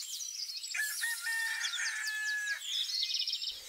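A rooster crows loudly and long with high chirping birds around it, in a countryside setting, with no talk.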